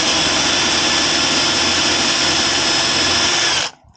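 A power drill with a 3mm bit bores into the metal body of a Mercedes Vito van, whining loud and steady up close for nearly four seconds before cutting off abruptly.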